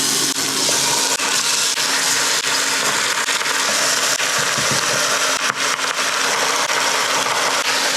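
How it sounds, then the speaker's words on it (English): Loud, constant sizzling and crackling of pork chops pan frying in hot olive oil, a dense hiss close by with occasional sharper pops. "I'm gonna be pan frying these pork chops"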